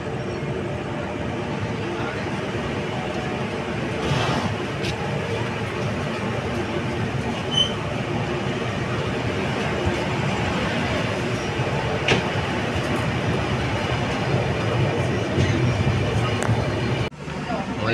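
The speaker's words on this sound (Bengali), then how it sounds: "ট্রেন ছেড়েও দিয়েছে তমলুক থেকে" A passenger train pulling away from Tamluk station runs with a steady, loud rumble and rattle heard from inside a carriage. Faint occasional clacks sit over it, with a sudden drop near the end.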